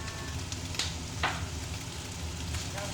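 Ground meat seasoned with chicken powder and paprika sizzles and browns in a pan for a capsicum stir fry, a steady close frying hiss with a few sharper crackles and light scrapes.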